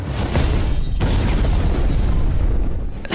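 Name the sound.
explosion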